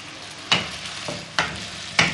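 Chicken mince fries in a pan, a soft sizzle broken by three sharp scraping stirs of a utensil against the pan, close and clear with no talk.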